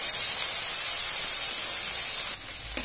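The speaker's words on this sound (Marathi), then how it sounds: "आता ती आपण या तेलामध्ये टाकणार आहोत आणि त्याला छान असं परतून" Chopped tomato, coriander and onion sautéing in hot oil for a moth bean usal, a loud, steady, close hiss of frying that drops a little near the end.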